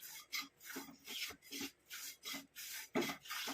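Amla powder being stirred and dry-fried in a pan on low flame as it turns black gives a rhythmic series of soft, close scraping strokes, about one every half second, with no talk.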